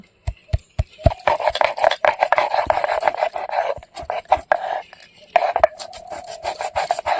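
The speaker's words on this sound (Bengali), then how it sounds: "শিলটা ধুয়ে শুকনো করে নিয়েছি, এবার একটা বড় এলাচ গুঁড়ো করে নেব।" Black cardamom being crushed on a washed, dried stone grinding slab, with rapid irregular scraping, rubbing and knocking strokes close up, repeated in a steady working rhythm.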